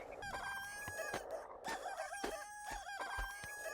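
Roosters and hens in the video game Baby Steps, a crowing call over steady clucking and fowl chatter, with a faint rhythmic thudding of footsteps underneath.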